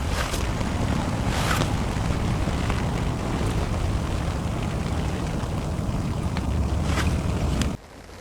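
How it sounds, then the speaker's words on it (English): A low salmon fishing boat engine rumbles out on Loch Lomond beneath gusty wind buffeting the microphone, steady until it cuts off at the end. "The salmon boats are running a lot."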